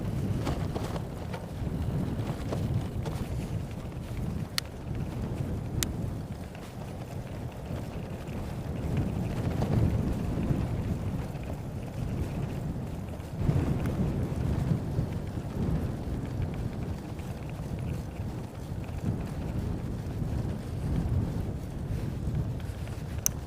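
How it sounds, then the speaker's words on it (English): Steady wind roars and buffets the microphone while cycling on a bike tour in Daegu, South Korea, a continuous loud rumble with no talking. "There's the wind."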